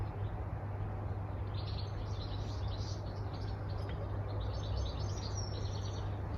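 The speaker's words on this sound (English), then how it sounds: "the birds are literally chirping in the garden" Small birds chirp in a garden, a series of high tweets repeating in bursts over a steady low hum; moderately distant and faint, with no one speaking.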